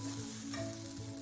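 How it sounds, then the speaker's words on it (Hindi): Sabudana and coarsely mashed potatoes are stirred in a pan, giving a soft continuous sizzle with scraping of the spoon, close and steady with no talking. "और फिर हम ये पूरा साबूदाना डाल के अच्छे से मिक्स करेंगे।"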